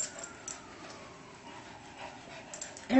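A puppy pants softly in quick, steady breaths, with faint whimpers now and then, close by and fairly quiet throughout.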